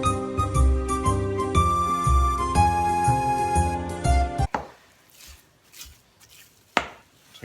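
Thick cheese cookie dough is stirred with a wooden spoon, giving a few close scraping thuds after tonal music fades out.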